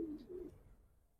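A silver Giribaz pigeon gives a soft, low coo, a brief close call in two short pulses that fades into quiet.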